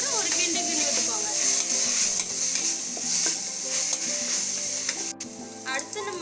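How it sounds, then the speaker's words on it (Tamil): Vegetable pongal with carrot and beans being stirred in a pan over low flame, a steady sizzle with scraping spoon strokes running throughout, close and fairly loud. "ஃபுல்லாக ஆட் பண்ணி முடிச்சப்பறம் ஒரு கிண்டு கிண்டு விட்டுப்போங்க."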